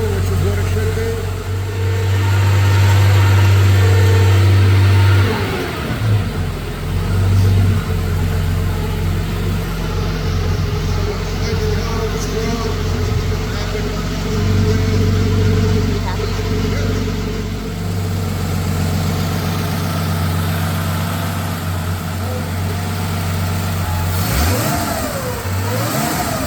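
A rebuilt air-cooled Porsche engine runs on a test stand at its first start, holding a steady idle and then revving up, with a loud, close, continuous throbbing drone and a rising rev near the end, under occasional talk.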